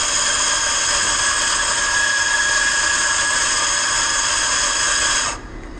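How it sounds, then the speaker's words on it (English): Azkoyen Zensia coffee machine grinder running steadily for about five seconds, a loud continuous whirring grind that cuts off abruptly near the end, with no talking. "we're just going to press D and let the coffee dump"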